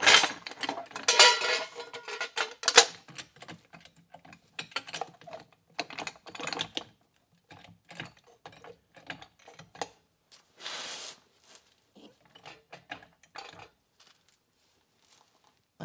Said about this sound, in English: Just jack it up a little under the trailing arm here.